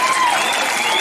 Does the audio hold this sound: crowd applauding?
yes